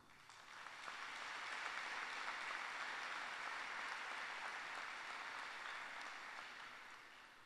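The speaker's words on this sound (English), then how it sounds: "A round of applause, please." Applause at a 2023 Bluefield High School graduation ceremony, a broad, fairly distant clapping from a large audience that swells in after a second, holds steady, then tapers slightly toward the end, quiet and without speech.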